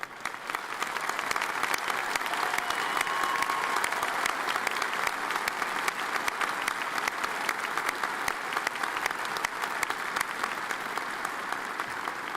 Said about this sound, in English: please rise and let's give them a round of applause